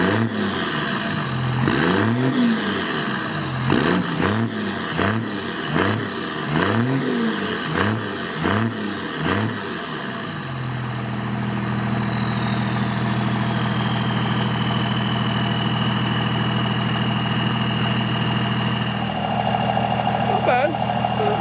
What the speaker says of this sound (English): I'm gonna set the tripod behind the tailpipe. I don't know if you hear this, but behind the tailpipe and give you some revs.